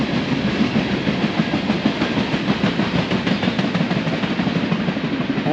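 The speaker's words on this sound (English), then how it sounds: "That's some more oil trains." A freight oil train rumbles steadily past close by in Winslow, Arizona, with a continuous heavy roar and rhythmic clattering of wheels on rails throughout.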